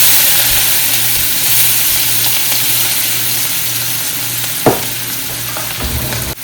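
Cumin, one dried red chili and capsicum hitting melted butter with a little oil in a home kitchen pan, giving a steady, close, broadband sizzle with a few sharp crackles and pops near the end and no talking.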